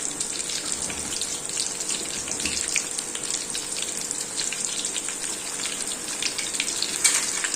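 Mutton kheema balls, six at a time, fry in hot oil in a pan with a steady close sizzle and crackle that carries on alone with no talk.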